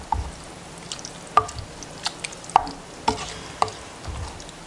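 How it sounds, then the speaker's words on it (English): Stirring food in a Dutch oven, with a handful of sharp scrapes and clinks from the utensil against the pot spread over a soft sizzling background, close and fairly quiet, with no talking. "And then we're going to stir it up for a minute."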